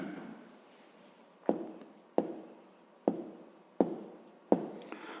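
A pen scratches on paper during a fifth-grade math exercise, making five or six sharp strokes at a steady rhythm, close and fairly quiet, with no voices.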